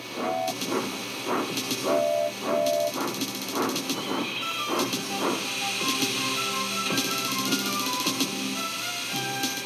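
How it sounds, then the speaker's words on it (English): Twin Scottish steam engines arrive in an animated Thomas and Friends scene, with rhythmic chuffing bursts over a steady hiss of steam and rolling rail clatter, moderately loud and continuous. "Then the Scottish twin engines Donald and Douglas arrived."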